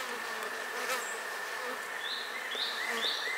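Honeybees buzz over an open hive during a colony split, a dense continuous hum close by with individual bees flying past. No one speaks.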